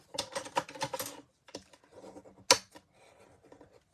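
Cardstock being folded in half along a score line for a Valentine's Day mailbox project, heard as close crisp crinkling and rustling with a few sharp creasing snaps and taps.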